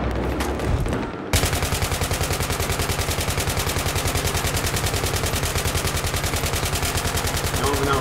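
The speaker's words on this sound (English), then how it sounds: "I don't even know who I'm shooting at. I'm just wasting ammo." Rapid automatic gunfire in the video game Battlefield 3, a loud, sustained stream of evenly spaced shots that starts abruptly after a brief moment of other game noise and continues without pause.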